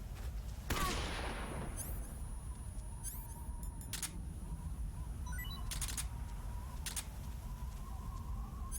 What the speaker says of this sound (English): There is going to be a white flash from the stun grenades.